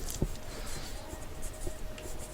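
Pen or chalk strokes scratch on a board during a philosophy lecture, producing faint, quick scribbling marks over steady room noise with no voice.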